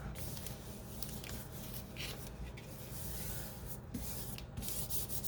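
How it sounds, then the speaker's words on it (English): Paper artist trading card being rubbed firmly by hand, especially around the edges, a continuous soft scuffing and brushing texture, close and quiet, with no talking. "I'm going to give it a good rub, especially around the edges."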